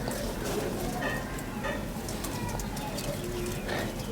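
Several pigeons coo softly in low, throaty bursts against a busy background, with a few faint chirps and a voice murmuring underneath.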